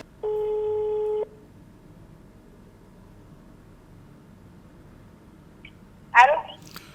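A single steady telephone tone sounds for about a second on a call to a massage number, followed by near silence and then a brief burst of voice.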